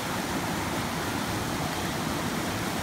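A swollen mountain stream rushes hard where it enters Convict Lake at the inlet, a dense, constant roar of whitewater filling the whole clip, close and loud with no voices.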